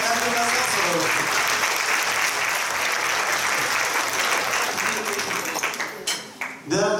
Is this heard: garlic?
no